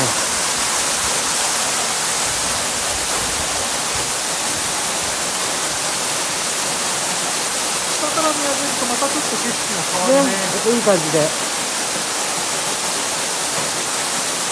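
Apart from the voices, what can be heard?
Kuroyama Three Waterfalls rushing water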